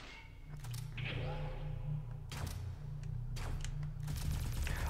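Rapid bursts of gunfire from a weapon in the video game Valfaris crackle over a steady low electronic hum, with sharp repeated shots clustered in several volleys.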